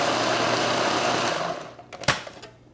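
A food processor spins, pureeing a batch of tomatoes for basic tomato sauce: a loud, steady motor whir for about a second and a half, then it winds down into a few scattered clatters and bumps.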